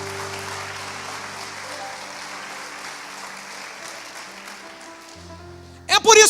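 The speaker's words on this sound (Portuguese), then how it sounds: "dê um aplauso a Jesus" A church congregation breaks into sustained, moderately loud applause over soft sustained keyboard chords, fading near the end before a voice suddenly speaks up close.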